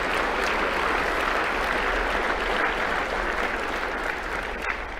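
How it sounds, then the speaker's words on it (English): Steady, dense applause from an audience at a Little Rock touchdown club luncheon, sustained and fairly loud for the whole stretch with no talk over it. "Let's give them a big round of applause."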